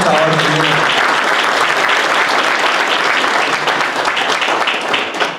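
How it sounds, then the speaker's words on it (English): A loud round of applause rises from guests at a law enforcement dinner held during Ramadan, thick and continuous clapping, with a voice speaking briefly at the start before the clapping takes over. "So please give yourself a round of applause for everything that you have given to our community."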